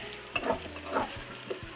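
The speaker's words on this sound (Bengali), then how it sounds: "ওইদিকে আমি ততক্ষণ কড়াইয়ে পেঁয়াজটা যেটা ভাজা হচ্ছে ওটা আমি রেডি করব মশলা দিয়ে।" Onions frying in oil in a kadai, stirred now and then while making a Bengali chicken and potato curry; a soft steady sizzle with a few brief scraping and stirring bursts, close and fairly quiet.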